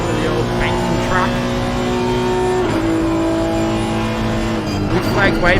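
Race cars in a video game lap Monza in a Pan Am racing series, their engines a loud, steady, high-pitched drone with shifting pitch as cars pass, heard under a commentator's talk.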